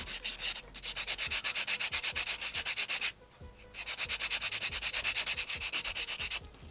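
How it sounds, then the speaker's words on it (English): A nail file rasps across fingernails during an at-home acrylic nail application, in quick rhythmic back-and-forth strokes, close and loud, in two bursts separated by a short pause. "if you need to file down your nails a little bit. I am going to file a little bit."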